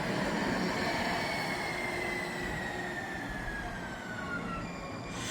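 Two-car Green Line light rail train of Siemens S70 units pulling in, a loud continuous rumble with high wheel squeal gliding slowly downward, close and without talk.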